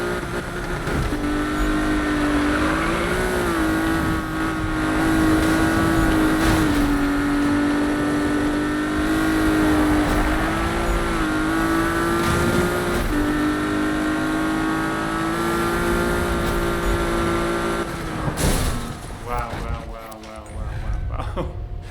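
Car engine from Need for Speed 2015 roars steadily through the whole run, a sustained harmonic drone that rises and dips as the car corners, with a voice talking over it.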